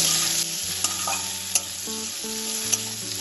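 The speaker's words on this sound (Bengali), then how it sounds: "চিংড়ি মাছটা তেলে একটু নাড়াচাড়া করে নেব।" Prawns rubbed with salt and turmeric, about 150 grams, sizzle steadily in hot oil while being stirred. A few sharp utensil clicks cut through the continuous frying hiss, with faint steady tones running underneath.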